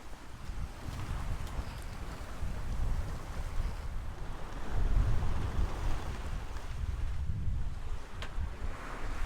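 Open sea on a sailing passage from Portugal to the Canary Islands, waves washing and surging around the hull with steady wind rushing over the microphone, a continuous rough roar that swells and eases.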